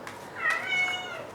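A cat meows in a drawn-out call indoors, a single clear mid-pitched cry near the middle, fairly close and alone with no talking over it.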